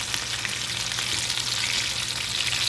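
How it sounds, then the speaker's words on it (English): Chicken taquitos fry in oil over medium-high heat, giving a steady, dense, close sizzle that holds evenly throughout with no voices. "Cook that about 2 minutes on each side."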